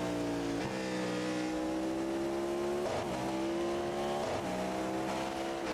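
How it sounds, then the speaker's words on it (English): A Chevy V8 GTP race car roars in a racing video game at Watkins Glen, sustained loud engine drone climbing through the gears with quick dips at each upshift, no voices over it. "Oh, don't they just sound fantastic too? Big fan of the V8 and that Chevy."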